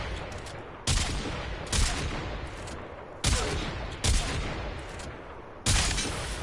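Quartakk rifle fire in Warframe: five sharp, loud burst-like shots at irregular intervals over a continuous roaring game ambience, each with a short trailing decay.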